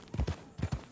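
Horse hooves clip-clop in Red Dead Redemption 2: two quick pairs of close, thudding hoofbeats in an even gait, with no voices.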